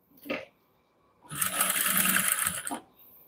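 A sewing machine runs in one steady, loud burst of stitching for about a second and a half while it sews around the neckline of a designer blouse, with a short mechanical clack just before and after.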